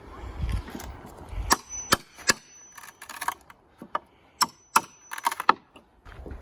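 Wooden pallets are pried apart with an old hammer and a pry bar, giving a series of sharp, close wooden knocks and cracks in an irregular rhythm with quiet gaps between them.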